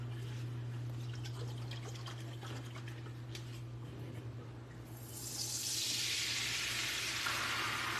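McCormick scampi seafood sauce is poured into a hot pan over medium heat and hisses, with a broad, steady sizzle that swells louder and stays strong, close up. There is no talking.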